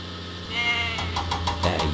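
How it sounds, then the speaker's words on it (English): Goats bleat in the Thomas and Friends Lift Load & Haul video game, a few short nasal calls near the end over a low mechanical engine drone, close and fairly loud. "Salty must deliver the goats to Farmer McCall's farm."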